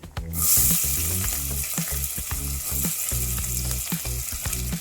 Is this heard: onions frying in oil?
yes